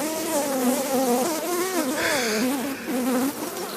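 Bees buzz steadily inside a honeycomb as it is squeezed out, a close, dense insect drone with wavering pitch that holds throughout.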